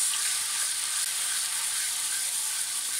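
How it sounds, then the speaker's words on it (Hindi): Onion paste fries in hot mustard oil with a steady, dense sizzle that holds evenly for the whole stretch, close and fairly loud, with no voices. "प्याज का पेस्ट, अच्छी तरह से भून लेंगे इसको।"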